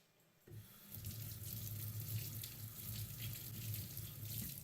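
Chili pods are rinsed under a running kitchen tap, a steady close rush of water splashing into a sink that starts abruptly after a brief quiet moment and continues evenly, with no talking.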